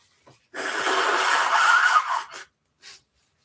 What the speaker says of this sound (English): I do have to blow my nose again.